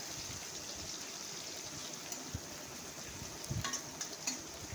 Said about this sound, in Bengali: এগুলোকে নাড়াচাড়া করে ব্রাউন করে ভেজে নিতে হবে